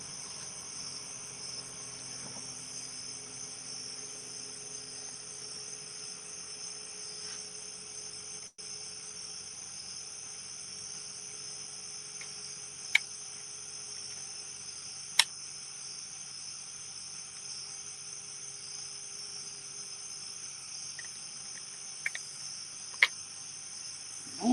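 Crickets and other insects chirp outdoors at night on a home riverbank during catfishing, a steady, shrill, continuous drone with a few faint clicks scattered through.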